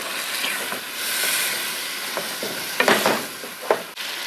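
Beef frying in spiced masala with stock for pulao, a steady hissing sizzle with a few clattering stirs and scrapes of a spoon toward the end, close and clear, no voices.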